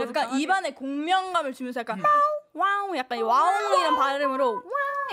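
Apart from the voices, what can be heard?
No everyday noises stand out.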